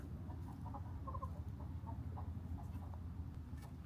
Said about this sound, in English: I did hear chickens.